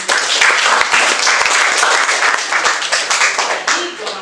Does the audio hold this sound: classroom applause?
yes